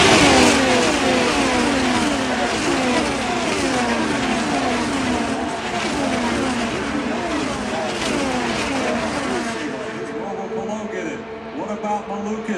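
IndyCar race cars at the Indianapolis 500 roar past at high revs in repeated sweeping passes, loud and close, fading toward the end as a commentator talks over them.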